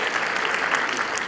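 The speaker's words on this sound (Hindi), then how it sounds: "इस बच्ची के लिए जोरदार तालियां बजा दो प्लीज" A brief burst of applause from a school audience at Vikas Bharati School in Delhi, honoring a young girl, with even, steady clapping at moderate volume.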